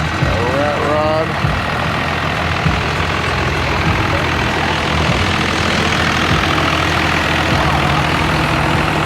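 A rat rod car's engine rumbles low and steady as it cruises past at an evening car show, with voices and other crowd noise mixed in over the continuous idle-like drone.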